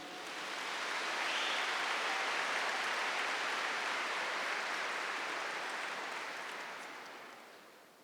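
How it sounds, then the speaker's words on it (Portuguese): A church congregation applauding during a religious gathering, a broad, sustained wave of many hands clapping that swells up quickly, holds steady for several seconds, then slowly fades, heard without talk on top. "aplaude essas pessoas"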